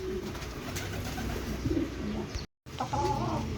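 Racing pigeons arriving one after another at a loft in Mulanay, Quezon, with soft cooing and wing flutters close by under a steady outdoor background.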